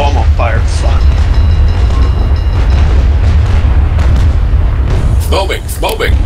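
Ship cannons firing in the naval battle game Naval Action, with heavy continuous booming and rumble throughout while someone shouts and talks over it.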